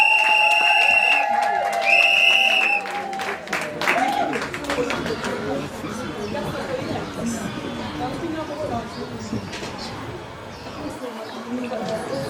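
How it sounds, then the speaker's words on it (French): Applause and cheering from wedding guests greet the officer at a civil wedding ceremony, a broad steady crowd wash of clapping and voices that fills the room after a brief musical tone at the start. "Acclamons pour l'officier."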